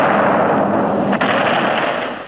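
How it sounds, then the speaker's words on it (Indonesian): A cannon is fired in a period drama set around Demak and Mataram, giving a loud, dense roar of blast and rumble that sustains, then trails off near the end. "Sekali tembakan meriam ini bisa menghancurkan 100 orang sekaligus."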